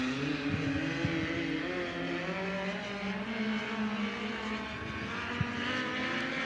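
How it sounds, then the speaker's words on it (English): Race cars roll into turns three and four at a dirt speedway in Bixby, Oklahoma, their engines a steady distant roar with no talk over it. "Next two cars out to the Speedway, rolling into turns 3 and 4 right now at Bixby, Oklahoma."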